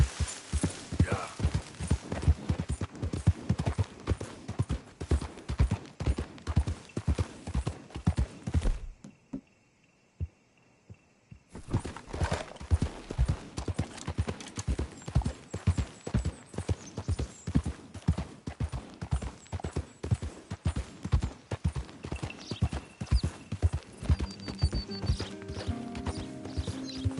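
Horse hooves clip-clop in a steady, rhythmic gallop in Red Dead Redemption 2, loud and close, broken by a short near-silent gap before the hoofbeats resume, with a faint whinny.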